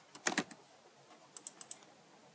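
Typing on a computer keyboard while building a hiring platform website UI design in Figma: a quick burst of key clicks, a pause, then a few more scattered taps, close and fairly quiet, with no talking.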